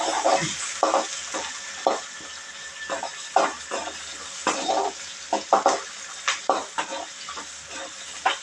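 Steady stirring and scraping of lentils sautéing in a pan with a soft sizzle underneath, a spoon knocking against the metal in irregular strokes, close by.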